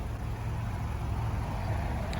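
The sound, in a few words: passing road traffic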